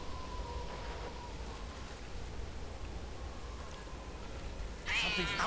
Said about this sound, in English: I heard a cat.